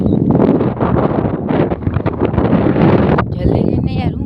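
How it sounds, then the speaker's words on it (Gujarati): Strong wind buffets the microphone outdoors in a loud, continuous rush with gusty surges, while people talk over it. "આ મિત્રો અહીંથી પવન ફૂલ આવે."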